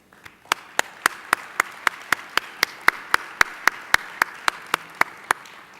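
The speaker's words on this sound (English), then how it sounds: "So I'd like to offer them a round of applause." At a life science conference keynote, a single person claps about twenty times in a slow, steady rhythm, crisp and close in a quiet hall.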